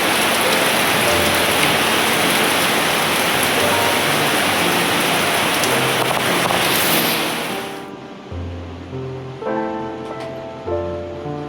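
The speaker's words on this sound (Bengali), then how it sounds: "বৃষ্টি পড়ছে" Heavy rain pours down in a loud, dense steady hiss that drops off sharply partway through, leaving quieter patter and a faint low hum.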